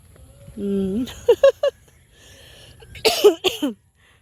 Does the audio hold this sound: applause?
no